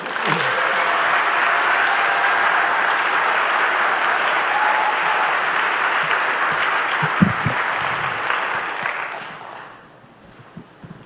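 Sustained audience applause at a conference plenary session after a Native women's circle greeting, loud and dense for about nine seconds before tapering off into a few scattered claps.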